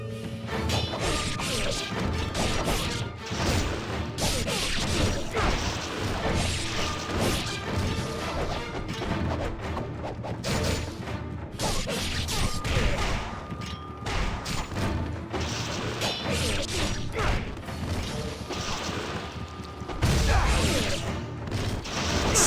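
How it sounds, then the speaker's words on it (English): Old pottery shattering effects in Ninja Gaiden Sigma amid dense combat noise, with repeated crashes, whooshes and thuds piling up loudly throughout. "I love that old pottery shattering sound effect."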